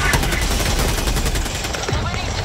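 Gun firing in Helldivers, a dense, continuous rattle of rapid automatic shots, loud and close throughout with battle noise underneath.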